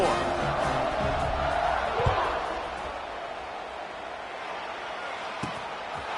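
A stadium crowd in the college football video game NCAA 25 keeps up a dense, steady roar, with a couple of sharp thuds and a commentator talking over it.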